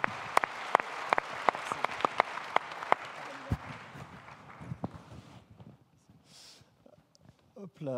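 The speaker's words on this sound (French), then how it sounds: "On peut déjà les applaudir le temps qu'ils arrivent sur la scène." An audience applauds as young students walk onto a stage, sharp close claps loud at first, then thinning out and fading to sparse, quieter clapping and room noise.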